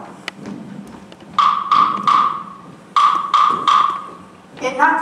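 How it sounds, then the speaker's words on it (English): Knocking on a door during a high school stage production of Cinderella: two sets of three sharp raps, moderately loud against a faint room background, followed by a short burst of voices. "you knock at the door"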